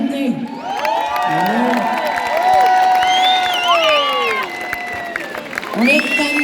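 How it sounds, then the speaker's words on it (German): A large outdoor crowd in Kitzbühel cheers and applauds for Andreas Gabalier, loud sustained whoops, shouts and whistles over a bed of clapping, with a voice briefly heard. "Ein kräftiger Applaus für den Andi."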